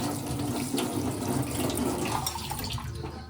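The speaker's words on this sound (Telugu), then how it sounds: "సో ఎండు చేపలు 5 సార్లైనా కడగాలి" Dried fish being washed under a running kitchen tap, a steady close splashing stream of water for a few seconds, with no talking.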